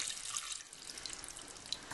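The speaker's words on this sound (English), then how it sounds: "So, in with me beef stock." Beef stock poured into a stew pot for a shin of beef, mushroom and fig stew, a soft steady liquid pour with light splashing, close and continuous, with no talk over it.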